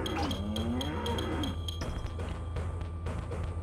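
In Katamari Damacy Reroll, a cow gives a wavering moo at the start, followed by game music and a string of light chimes and pickup sounds.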